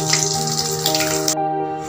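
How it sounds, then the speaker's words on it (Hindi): A small splash of water is poured into a pan of sizzling spice masala for Punjabi-style kadhi pakoda, a steady hissing wash that ends abruptly, close up with no talking. "अब इसमें थोड़ा सा पानी डाल रही हूँ क्योंकि जो हमारा मसाला है वो जल ना जाए कहीं।"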